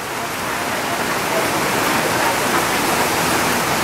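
Steady, heavy rain hissing continuously, a dense broadband wash with no pauses, close and fairly loud.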